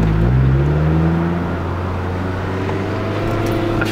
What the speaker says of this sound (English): That's the TRD exhaust for you.